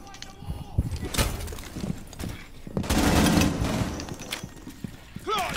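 Rapid hip-fired gunfire in the tactical shooter Rainbow Six Siege, loud close bursts of shots mixed with other game noise while a player talks over it.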